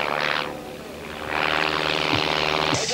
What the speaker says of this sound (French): Eric Muller, l'as des as, et son Extra 230, c'est parti.